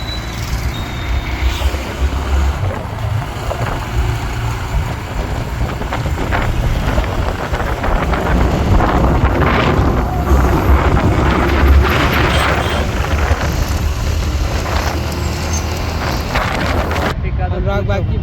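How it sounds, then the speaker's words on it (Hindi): A motorbike engine hums through dense Delhi evening traffic, wind buffeting the microphone, with horns and surrounding vehicles rumbling nearby and occasional voices. "अनुराग भाई की बाइक है और हम लोग अभी ट्रैफिक में फंसे हुए हैं।"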